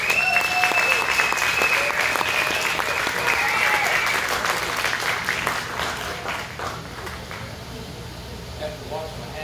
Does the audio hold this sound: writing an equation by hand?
no